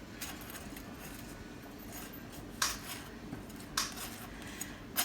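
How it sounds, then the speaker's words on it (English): A knife scrapes and clinks as butter is spread on a bagel. The scraping strokes are soft and close, with two or three sharper taps against a quiet kitchen background. "I'm gonna spread some butter."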